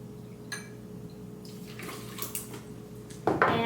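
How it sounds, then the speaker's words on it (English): Vodka is poured into a martini shaker full of ice, giving a quiet, brief trickling splash, followed by a louder clattering rush near the end. "So I have a martini shaker full of ice. To that, I'm going to add a shot of vodka"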